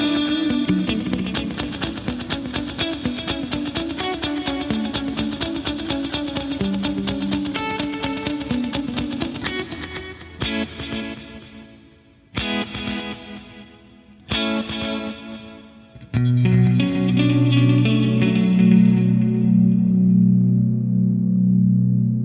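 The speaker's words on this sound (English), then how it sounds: "So I'm routing the delay and the reverb in parallel." Distorted electric guitar through delay and reverb routed in parallel, with long echoing repeats and a wide reverb wash, playing continuously with brief pauses where the trails ring out.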